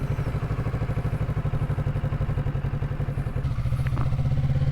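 A motorcycle ridden while filmed on a GoPro Hero 9, its engine a steady, loud, close pulsing thrum with a fast even rhythm and light mechanical clatter throughout.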